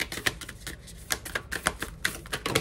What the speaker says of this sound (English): These cards are actually pretty freaking hard to shuffle.